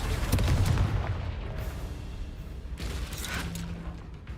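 Confringo blasting spell cast in the Hogwarts Legacy video game, a loud booming burst up front that trails into a rumbling, crackling tail, with a second softer flare near the end.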